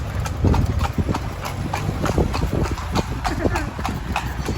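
Horse hooves clip-clop in a steady rhythm, pulling a horse carriage through the streets of Lampang, Thailand, with people talking over the hoofbeats.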